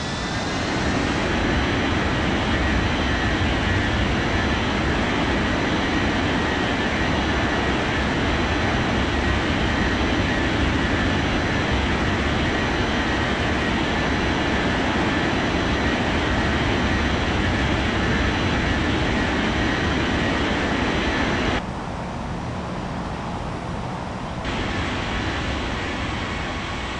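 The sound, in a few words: airliner taking off in a flight simulator video game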